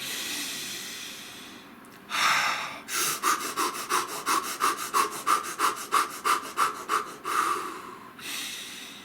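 A person takes deep breaths: one long inhale, then a rapid run of about fifteen rhythmic panting breaths, then another long breath, close to the microphone with no talking.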